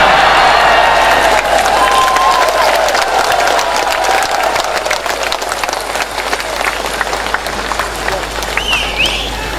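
Large outdoor crowd at a Prabowo campaign rally claps and cheers in a sustained, loud roar with babble mixed in and a whistle rising near the end.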